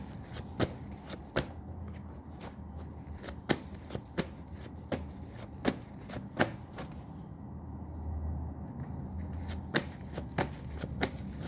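Tarot cards being shuffled for a reading, a run of crisp riffling bursts repeating at a steady, close rhythm with no voice over them.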